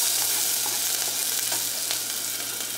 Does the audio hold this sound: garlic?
yes